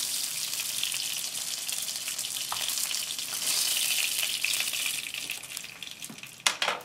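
Chicken pieces frying in a pan for chicken scallopine, a steady close crackling sizzle throughout with a brief louder clatter near the end.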